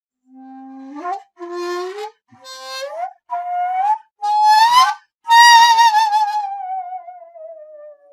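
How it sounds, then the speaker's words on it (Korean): A Korean daegeum bends its pitch with smooth upward slides as fingers glide over the finger holes and the embouchure hole is worked, in several short rising phrases ending in a long, wavering, falling tone. "지공을 미끄러지듯 막거나 열어주면서 취구까지 활용하는 글리산도의 소리를"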